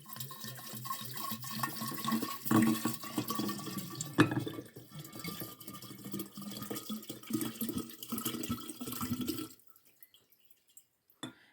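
Spirit pours steadily into a bottle for about nine seconds, gurgling and trickling, then cuts off into near silence.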